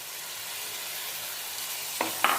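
Tomato pieces frying in oil for a Nellore-style fish curry make a steady hiss, then two louder crackling bursts near the end as the pan flares up. No voices.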